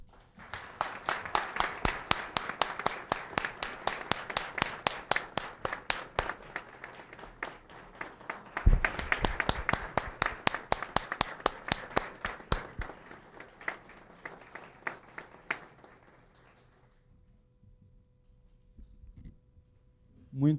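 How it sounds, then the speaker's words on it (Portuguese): A crowd at a formal Doctors' and Dentists' Day ceremony claps steadily for about fifteen seconds, swelling once midway, then the clapping thins out and fades, with a brief noise at the very end. "eu peço uma calorosa salva de palmas"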